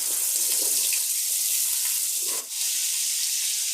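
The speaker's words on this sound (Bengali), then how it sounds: "আমি আলুগুলো ভেজে নিচ্ছি" Potatoes frying in a pan for a vegetarian paneer dish, a steady close hiss of sizzling oil running throughout with a brief dip near the end.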